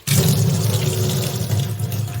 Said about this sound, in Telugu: ఇలా ఒక 5 మినిట్స్ వరకు ట్యాప్ వదిలేసి ఉంచాలండి.